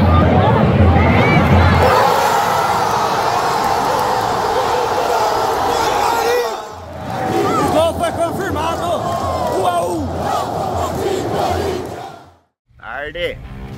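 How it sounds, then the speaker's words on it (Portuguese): Corinthians supporters singing and chanting in a packed football stadium during a Brazilian league match against Cuiabá, a loud massed roar of voices that drops out briefly mid-way and near the end before resuming. "E agora a torcida do Corinthians canta mais alto"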